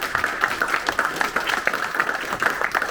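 Dense, steady clapping from a crowd fills the whole stretch, a continuous patter of many hands at moderate loudness.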